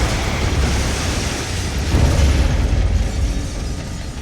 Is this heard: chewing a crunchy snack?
no